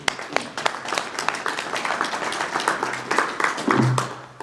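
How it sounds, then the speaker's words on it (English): Audience applause at an amateur radio club meeting, steady clapping from a small crowd filling the room for about four seconds, with a brief low hum near the end and no voices over it. "So give a big round of applause to Wade."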